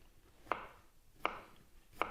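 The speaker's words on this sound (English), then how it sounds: "I'm going to go ahead and chop it up a little bit and put it in the stock as well." A knife chops through a leftover cauliflower stalk on a board in an off-grid kitchen, three sharp, evenly spaced thuds about three-quarters of a second apart, close and clear over quiet background.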